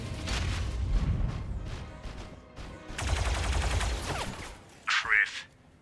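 Bursts of rapid gunfire and blasts from the Star Wars: Zero Company video game come in clustered volleys, loud and close, with voices speaking in between.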